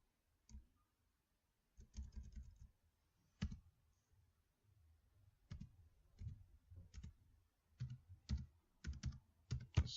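A password is typed on a computer keyboard in scattered bursts of crisp, close key clicks with short pauses between, quiet background and no speech.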